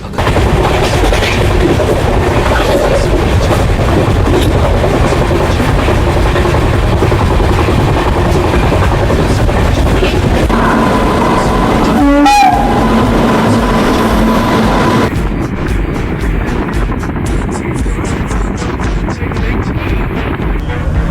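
The Kolkata–Kamakhya Garib Rath Express rumbles loudly and continuously along the rails, with wind buffeting, a brief screech, and rhythmic clattering near the end.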